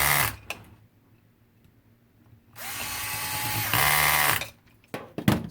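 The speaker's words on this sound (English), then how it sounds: "Using the cool Ryobi little screwdriver." A small Ryobi electric screwdriver whirs close and loud in two sustained runs, driving screws while reassembling a G&G M4 airsoft rifle, with faint clicks and handling noise around it and no speech.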